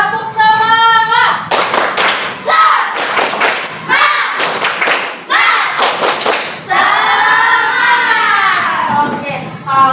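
An Indonesian primary-school class of children performing a rhythmic spirit clap, bursts of patterned claps and thumps alternating with children's voices chanting and shouting along, loud and close in a classroom.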